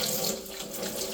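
Leaves for ilayada are washed under a running kitchen tap, a steady close splashing flow of water into a sink that continues throughout without any talk.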